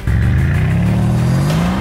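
A Mercedes-AMG C63 S Coupe engine revs hard and climbs steadily in pitch as it accelerates away in a drag race, loud and close, with a deep throaty growl.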